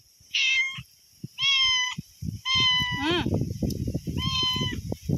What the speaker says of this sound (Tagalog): Mimi, may pusa dito